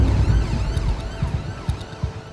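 An ambulance siren wails in rising and falling sweeps under a low, thumping road rumble. The sound is heard from close by, as if inside or beside the moving vehicle.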